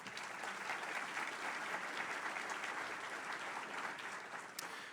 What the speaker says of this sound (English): If we could please have a round of applause for our panel.